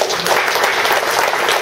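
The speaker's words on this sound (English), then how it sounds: "when I turn my hands over, you're going to clap" An audience at a general meeting breaks into loud, full clapping that fills the room. The claps blur into one continuous roar rather than separate beats.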